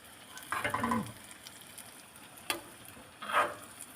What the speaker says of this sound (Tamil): இப்போ பழத்தை பொரிய ஆரம்பிக்கிறது நல்லா பொரிஞ்ச உடனே எடுத்து ஆஃப் பண்ணிடணும்